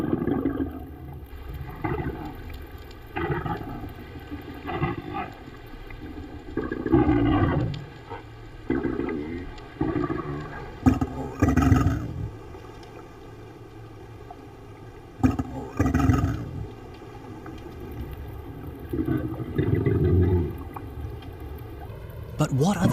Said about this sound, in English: the minke sounds may be a reproductive call or song